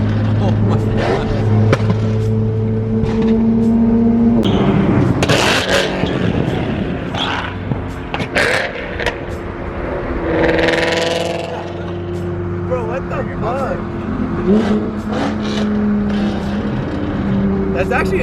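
A flame-spitting Mustang roars past with loud exhaust crackles and pops, engine note rising and falling over several bursts, while excited voices react throughout.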